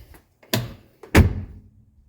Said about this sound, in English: And watch how the door shuts now.